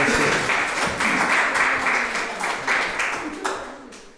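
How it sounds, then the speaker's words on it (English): Audience applause at a poetry reading, a short burst of steady clapping from a modest crowd that tapers slightly toward the end. "let's give a big round of applause to Mike Nguyen and the staff here at Woodland Pattern"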